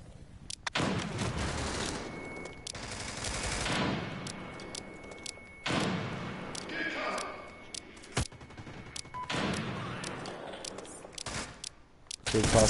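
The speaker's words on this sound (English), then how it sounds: "I'm gonna pull out a shotgun and kill him with a shotgun" Video game shotgun blasts boom out repeatedly in bursts alongside other gunfire, loud and close, with a steady hum running beneath and no talking over them.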